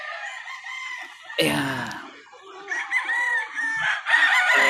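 A quality game rooster crowing on a game farm, one loud, close cock-a-doodle-doo in the middle, with clucking and other fowl calls around it and someone speaking briefly.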